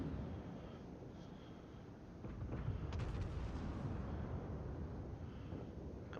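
Heavy naval guns of the cruiser Kronshtadt fire in a warship video game, a deep rumbling salvo that swells partway through over continuous low engine and wind-like background noise, with no talk.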